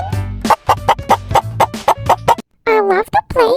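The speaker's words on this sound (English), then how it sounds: "A little chicken lives in this barn house." A turkey-like fowl gobbles in a quick rhythmic series of about a dozen loud, close bursts, followed by a short pause and then a few drawn-out, squawking calls; the bird call is voiced for a children's farm-animal cartoon chicken.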